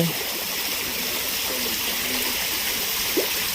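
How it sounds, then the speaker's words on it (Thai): Water spurts from a PVC pipe into a pond fountain, a steady trickling, splashing rush heard close and continuous, with a faint tap near the end. "ท่อ PVC ที่เขาใส่ไว้นี่ก็คือเป็นทางที่น้ำจะออกมาพุ่งออกมาเป็นสปานะ"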